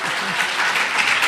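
Audience applauding at a mushaira, a broad, steady wash of clapping that fills the whole moment at even, fairly loud level with no speech.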